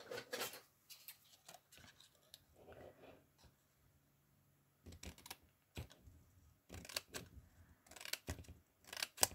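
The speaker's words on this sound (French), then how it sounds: "J'aurais peut-être dû prendre le grand ciseau." Scissors cut at close range in quiet surroundings, giving faint, irregular snips and crisp clusters of blade closes separated by pauses.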